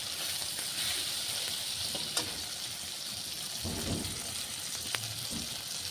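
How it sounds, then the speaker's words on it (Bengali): Tomatoes fry in a pan for tomato and red lentil dal, giving a steady, soft sizzle with faint stirring scrapes and a couple of light clicks, fairly quiet and with no voice over it. "টমেটো একটু ভালো করে ভেজে নিব"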